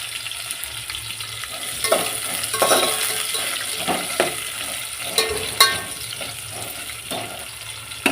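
Green chillies, carrot and onions frying in a pan for Telangana-style mutton curry and bagara rice: a loud continuous sizzle with scraping stir strokes and occasional clatter of the utensil, no speech.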